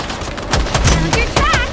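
Weapon fire in the sci-fi video game Stirnova: a few sharp game blasts and zapping effects, with in-game voice lines overlapping.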